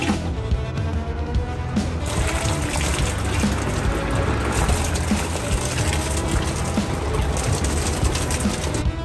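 A marine head toilet's hand pump on a boat pushes water through its plumbing, making a steady, loud rush and gush of flowing water for about nine seconds with no break.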